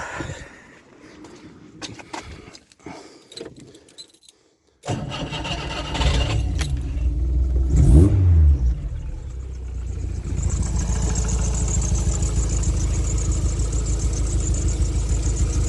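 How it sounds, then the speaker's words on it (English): A Skoda Estelle 120 engine, not the original, cranks and catches, revs up once, then settles into a steady, loud idle that runs on to the end. "In fact, I'll just start it up."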